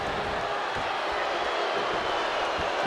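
A wrestling arena crowd in the WWE 2K25 video game roars in a dense, unbroken wash of noise that holds at a steady level.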